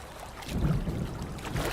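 Water swishing and lapping low and close as a small country boat moves along at dusk, a soft, brief burst of splashing and rushing under faint wind-like noise with no voices.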